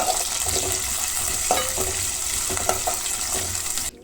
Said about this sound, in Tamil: சேர்த்து நல்லா அந்த எண்ணெயிலேயே சின்ன வெங்காயம் வதக்கணும்